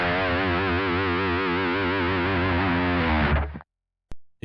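An electric guitar runs through a free amp-sim plugin with every knob cranked to ten, ringing out one heavily distorted, wavering sustained chord for over three seconds before cutting to silence, followed by a faint click.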